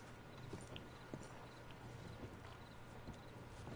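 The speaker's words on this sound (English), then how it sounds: "I'll go get the horses and then wait here" Horse hooves clip-clop steadily at walking pace in Red Dead Redemption II, a soft, moderately close rhythm over a low ambient hum with no talk.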